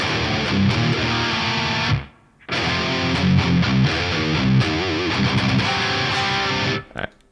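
Distorted electric guitar chords ring out with a spacious reverb tail, pausing briefly before strumming resumes, loud and sustained.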